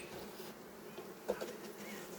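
Honey bees buzz around an experimental hive with brood frames, a continuous close, low-level hum with a brief louder pass of a single bee.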